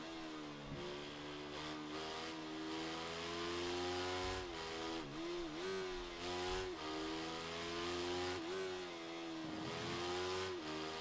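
A small Moto3 motorcycle engine in the racing video game Ride 3 screams continuously, revving high and dipping repeatedly through gear changes and braking, with no talking.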